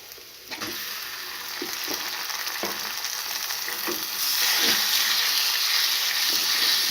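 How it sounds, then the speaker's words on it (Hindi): Chicken pieces frying with garlic paste in hot oil, a loud close sizzle that swells after a few seconds, with stirring knocks scattered through it and no talk. "चिकन को भी थोड़ी देर के लिए फ्राई करेंगे"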